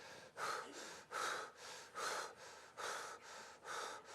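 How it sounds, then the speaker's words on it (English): A keynote audience breathing in quick, shallow, rhythmic puffs, about seven breathy surges of many people at once, soft and steady in a large room. "take some quick, shallow breaths like this"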